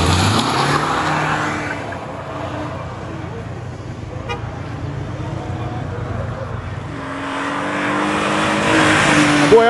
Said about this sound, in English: BMW in the left lane, Mark X in the right